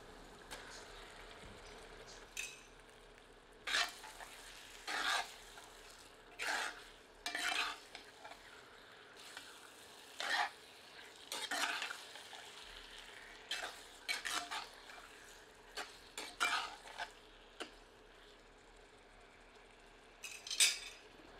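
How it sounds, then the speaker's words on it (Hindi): Chicken pieces for an Uttarakhandi chicken curry are stirred into sizzling fried spices in a pan: repeated loud bursts of spoon-scraping and clattering stirs over a steady background sizzle, with no talking. "अब इसमें चिकन के टुकड़े सम्मिलित करते हैं और इसे अन्य सामग्री में मिला देते हैं"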